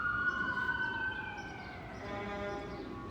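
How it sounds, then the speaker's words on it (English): An ambulance siren wails in the street with a falling, sweeping tone at moderate distance, steady and alone without voices. "Well, there's an ambulance right now."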